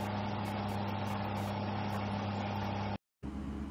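A tractor engine in Farming Simulator 15 drones at a steady idle-like hum with a constant low rumble, cutting out briefly near the end before resuming.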